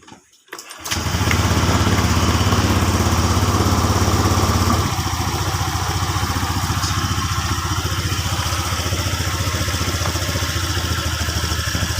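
A Honda Vario 125 FI scooter with sluggish acceleration starts after a brief crank and settles into a loud, steady close-up idle. The engine hum holds through the clip and drops slightly in level partway through.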